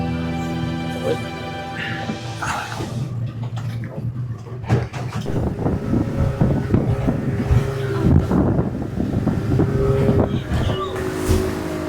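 A motorboat engine drones steadily with a low rumble on open sea near the Gili Islands, wind buffeting the microphone and water slapping against the hull, some faint voices mixed in.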